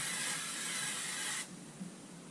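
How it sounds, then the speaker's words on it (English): Cooking spray hisses steadily into a Dutch oven for about a second and a half, close and bright, then cuts off, leaving quiet kitchen room tone. "Now I'm going to spray this here."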